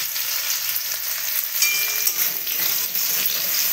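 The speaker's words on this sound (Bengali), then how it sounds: "এবার তেলে করলাগুলো দিয়ে দিলাম। করলাগুলো কিন্তু বেশ করে ভাজতে হবে।" Bitter gourd frying in hot oil in a home kitchen, a dense, steady sizzle with faint stirring clinks, close and continuous with no talking.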